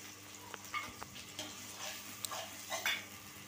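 Ginger-garlic paste and carrots fry quietly in a pan for egg fried rice, a faint sizzle broken by a few soft stirring scrapes and light clinks of a spoon against the pan.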